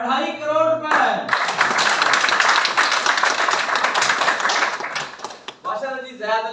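A burst of audience clapping in a hall during a property company presentation lasts about four and a half seconds, with a presenter speaking just before and after it.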